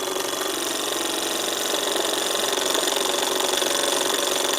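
A Davies Charlton hot air engine runs steadily, giving a continuous fast mechanical whirr and buzz, close and even, with no voices.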